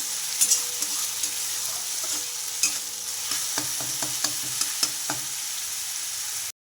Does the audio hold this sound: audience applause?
no